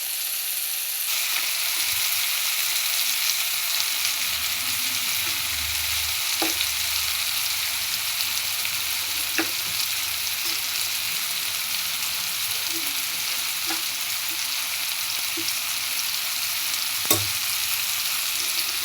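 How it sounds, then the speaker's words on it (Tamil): Sautéed tomatoes frying in oil for a fish curry as chili powder is added, giving a loud, steady, close-up sizzle that lasts throughout, broken now and then by faint stirring clicks, with no voices. "இப்படி வதங்கி இருக்கும் போது நம்ம மிளகாத்தூளை போட்டுருவோம்."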